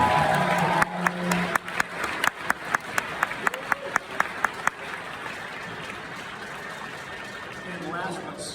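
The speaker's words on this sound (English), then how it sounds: "Can we hear a round of applause for that?" Audience applause at a TubaChristmas concert, with a sharp rhythmic clapping close by standing out over the crowd before the sound fades into softer murmuring and talk.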